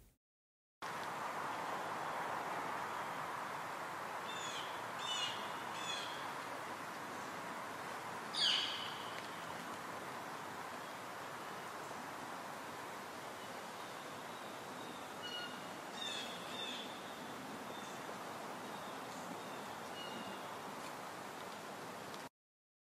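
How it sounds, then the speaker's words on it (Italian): Forest ambience in 5.1 surround: a soft, steady bed of woodland air with a few faint bird calls and chirps scattered through, one sharper call standing out near the middle, no voices. "ho poi inserito una clip sempre 5 più 1 con il rumore di un bosco in cui si sentono anche degli uccelli"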